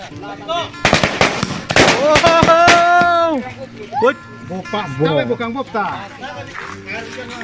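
Diwali firecrackers burst in quick rapid-fire volleys, loud and close, followed by a whistling rising tone and scattered pops, with children shouting and talking excitedly over them.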